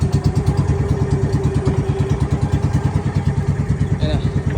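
Boat or motor engine in Real to Mauban, Quezon, running with a steady fast pulsing chug, loud and close, with a faint clatter near the end.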